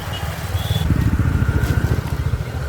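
A motorcycle engine thumps close by while riding, a loud rapid putter with steady pulsing beats through the whole short stretch, wind noise mixed in.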